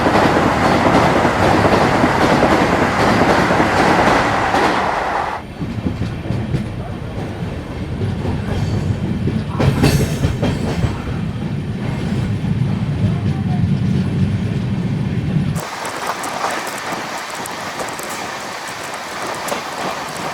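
The Sealdah–Varanasi Amrit Bharat Express races along at about 127–129 km/h, a loud, continuous rumble and rattle of wheels on track whose tone shifts abruptly in sections as the surroundings change.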